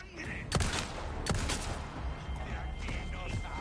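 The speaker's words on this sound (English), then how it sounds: "And he got dropped by two pistol shots." Pistol shots crack out in Resident Evil 4, two or three sharp reports amid a rumbling game backdrop and faint voices.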